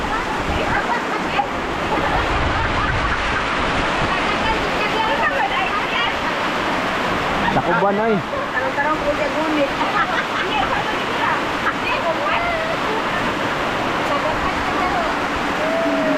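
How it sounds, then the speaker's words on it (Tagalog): Heavy rain pours down at a rural home beside a stream and palm oil trees in the Philippines, a dense, steady hiss throughout. People talk over it. "Ulan na naman. Grabing init, pero biglang umulan."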